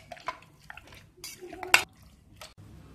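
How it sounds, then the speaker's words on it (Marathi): Mutton is mixed with turmeric and ginger-garlic paste in a bowl, giving quiet scattered clinks and soft wet stirring sounds in a fairly quiet kitchen, with faint voice traces. "व्यवस्थित मिक्स करायचं येते।"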